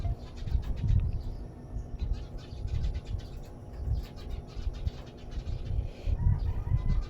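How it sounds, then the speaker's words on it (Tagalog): Many birds on a house roof: low soft cooing, fluttering and scuffling, steady and moderately faint, continuing throughout with no speech. "maraming ibon dyan sa bubong, guys"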